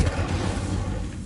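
The Incendio fire spell bursts out in Hogwarts Legacy, a dense roaring whoosh of flame that stays loud and close throughout and fades slightly at the end.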